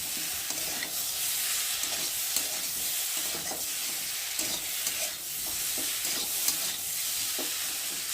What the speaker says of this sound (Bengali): আর এখন ভেজে রাখা ফুলকপিগুলো দিয়ে একটু মশলার সাথে হালকা করে নিয়ে নেব।